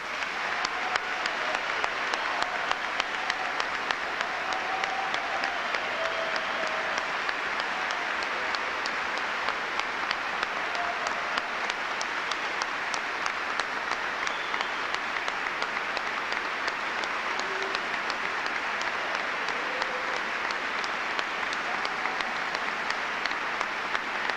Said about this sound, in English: Let us all give them a rousing round of applause.